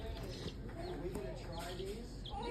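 A chicken clucks and coos in short bursts while being held close by hand, with people talking over it throughout.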